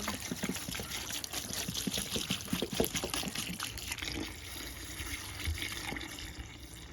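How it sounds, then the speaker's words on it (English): Distilled water pours from a one-gallon jug into a bucket in a continuous, fairly quiet splashing and trickling stream that lasts several seconds, with no talking over it. "Add into bucket another 1 gallon of distilled water plus 13 ounces of distilled water."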